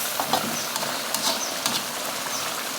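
Catfish stir-fry with fingerroot and kaffir lime leaves simmers and sizzles softly in the pan, with faint bubbling and light stirring scrapes.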